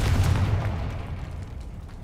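Confringo blasting spell in Hogwarts Legacy, a single deep boom bursting at the start, then rumbling and decaying over the next two seconds.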